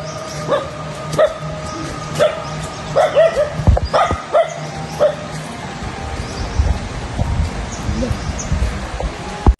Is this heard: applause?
no